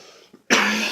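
A single harsh cough bursts out close to the microphone after a near-silent moment, then rasps on steadily for about half a second with no talking around it.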